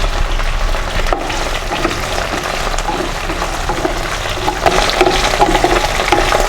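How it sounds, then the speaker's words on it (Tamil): Cut okra sautés in hot oil in a pan with mustard seeds, fenugreek, dried red chillies and curry leaves, a steady close sizzle and crackle with occasional stirring scrapes. "இப்போ வெண்டைக்காவை நல்லா வதக்கிக்கலாம்."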